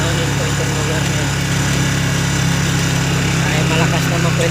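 A motorcycle engine runs steadily and loudly throughout, a constant buzzing drone with wind noise, close by.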